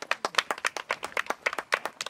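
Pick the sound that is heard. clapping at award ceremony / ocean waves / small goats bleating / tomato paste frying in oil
clapping at award ceremony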